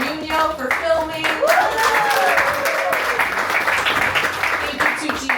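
Applause from a poetry reading audience, starting with a few scattered claps and building into dense, close hand-clapping, with cheers and a whoop rising above it.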